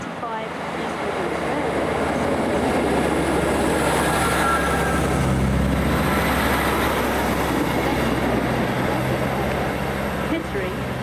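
A passenger train rumbles into a station platform at East Midlands Parkway, a loud, steady low roar with brake squeal and rail noise throughout, under a platform announcement voice.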